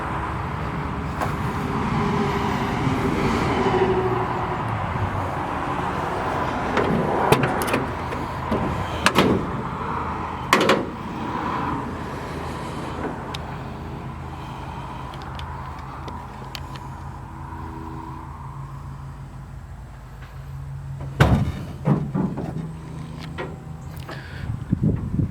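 Hood of a 1950 Dodge pilot house dually pickup being opened, creaks and metallic clunks with a loud thump near the end over a steady low background hum.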